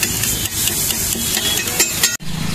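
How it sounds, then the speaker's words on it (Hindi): Potato tikki frying in Amul butter on a street-food griddle in Aligarh, a steady loud sizzle with scraping and stirring clatter throughout, briefly cut off near the end before resuming. "अब इसको फ्राई किया जाएगा यहाँ"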